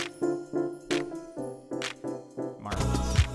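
A studio drum drenched in heavy reverb strikes about six times in a steady, slow rhythm, each hit ringing with a long wash of tail, building to a denser, louder rumble at the end.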